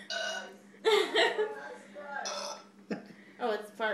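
A burp sound effect played from a phone app, a few gurgling belch-like bursts spread over several seconds, heard close and mixed with people talking around it.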